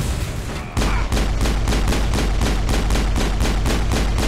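Player gunfire in the video game Mass Effect: a loud, sustained burst of rapid, evenly spaced shots that starts abruptly and continues steadily to the end, dense and booming with no talk over it.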